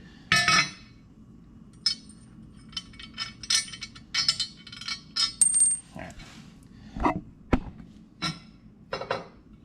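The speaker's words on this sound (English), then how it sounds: "we drop the first washer off completely" A metal washer drops while motorcycle crash bars are being fitted, a bright clink followed by scattered light metallic taps and clinks of parts and tools, close and fairly quiet.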